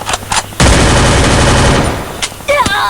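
Automatic gunfire in the battle royale game Free Fire, a loud close burst of rapid shots lasting over a second, framed by shorter single shots and a few brief in-game effect sounds.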